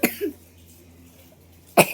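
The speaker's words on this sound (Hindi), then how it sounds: "साथ में खांसी आ गई" Two short bursts of coughing, one at the start and a sharper, louder one near the end, separated by a quiet stretch with a low steady hum.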